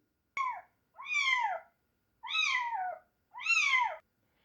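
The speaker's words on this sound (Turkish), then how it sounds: "Evet, kediler miyav diye ses çıkartır." A cat meows four times, each call clear and drawn out with short pauses between, heard alone in quiet surroundings.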